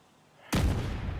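A grenade-style explosion in a video game, tied to a Combuster talent, booms in suddenly after a quiet start: one loud, sharp blast followed by a sustained rumbling roar that fills the rest of the moment, with no voices.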